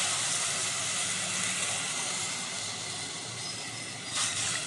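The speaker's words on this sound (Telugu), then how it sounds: "నీళ్లు పోసేద్దాం." Water is poured into a hot pan of tempered chillies and curry leaves while pongal is being cooked, giving a steady, even hissing rush that holds throughout at moderate loudness, close up, with no talking.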